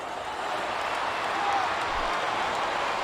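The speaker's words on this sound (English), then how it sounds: "The crowd is coming alive." A wrestling arena crowd at Armageddon 2006 roars in a steady, dense wash of cheering, loud and continuous, with a commentator's voice over it.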